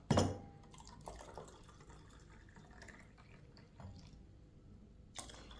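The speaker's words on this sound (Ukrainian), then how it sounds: "І додамо ще гарячої, гаряченької води, щоб побачити оцей гарний результат" Hot water poured from near the microphone into a container holding laundry detergent mixture, a short splashing fill at the start, then faint trickles and drips, another brief splash near the end.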